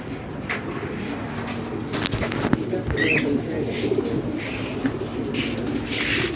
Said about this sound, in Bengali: আমাদের কবুতরের অভাব নাই